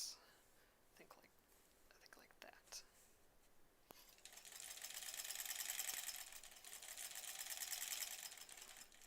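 A sewing machine runs a straight stitch on an appliqué pillow, a steady close whir starting partway through after a few quiet soft rustles and handling sounds.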